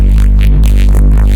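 A loud synth bass patch in Reason with the vocoder removed: a dense, throbbing low-end drone with a wobbling, filtered upper texture that pulses continuously throughout.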